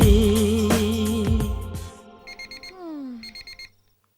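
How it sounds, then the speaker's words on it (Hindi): An alarm clock rings in short repeated electronic beeps, seven or eight bursts in quick succession, loud and close after a busy music passage fades out, with a falling sweep tone in between. "अलार्म बज रहा है, उठ जाइए"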